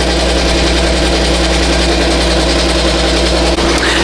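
A BAI Mirror 1501 embroidery machine stitching a design onto a T-shirt gives a loud, close, steady mechanical drone and rapid whirring hum that runs without a break, with no voices.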